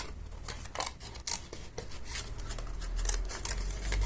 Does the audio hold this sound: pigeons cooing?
no